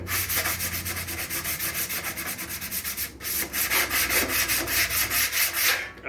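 Hand sanding scuffs a surface during a Victorian house restoration, with loud rhythmic back-and-forth rubbing strokes about twice per second. There is a brief pause partway through, then the strokes resume, close up and with no talking.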